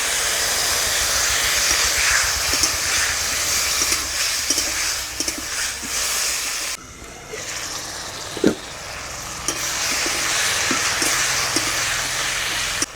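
Water splashes into a frying spice paste with tomato, turmeric and salt for a catla fish curry, and the pan answers with a loud, continuous sizzle and hiss, briefly dipping midway before surging again, with scattered clinks of stirring.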